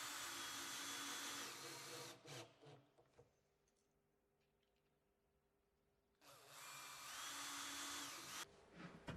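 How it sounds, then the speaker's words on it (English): A cordless drill whirs loudly in two long bursts boring pilot holes through door hinge leaves, pausing for a few seconds of quiet in between, with short revving stops and starts. "Use a cordless drill to bore several pilot holes through the hinge leaves"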